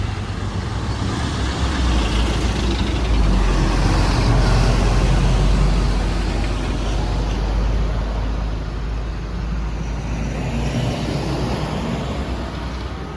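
Intercity AKAP buses on an Indonesian road in the busy days before New Year, passing by as a loud, continuous rumble of heavy engines and roadway noise that swells around the middle and then eases slightly.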